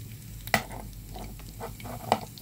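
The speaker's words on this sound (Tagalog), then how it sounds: "gisa yung sibuyas, magpapansit ako ngayon" Onions sautéing in a pan for pancit, a steady low sizzle with a couple of sharp utensil scrapes and stirring knocks standing out clearly, no voices present.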